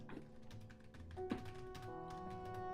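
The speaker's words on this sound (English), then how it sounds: "I'm just typing." Keys clatter on a computer keyboard in irregular bursts of taps, fairly close and moderately quiet, with no talking over them.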